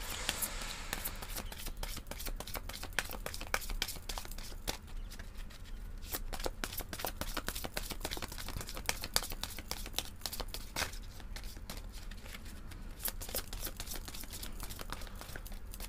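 Tarot-style cards being handled, shuffled and drawn for an intuitive reading, a steady stream of close, crisp card flicks and slides continuing throughout with a low room hum underneath.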